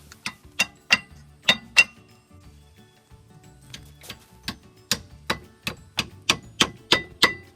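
A hammer taps brake pads into place on a Subaru Forester's rear brakes, sharp metallic clinks in two bursts, a quick group of five, then a pause, then a steadier run of about a dozen close, crisp strikes.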